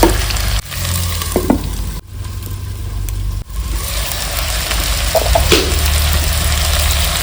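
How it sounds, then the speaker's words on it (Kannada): Drumsticks (moringa pods) frying in oil in a pan, a loud continuous sizzle with a few brief dips and occasional stirring clinks, no talking. "ಈಗ ನುಗ್ಗೆಕಾಯಿನೂ ಸ್ವಲ್ಪ ಎಣ್ಣೆಯಲ್ಲಿ ಫ್ರೈ ಆಗಲಿ."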